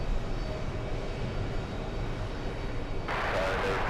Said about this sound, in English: That's JetBlue 1457, an Airbus A320.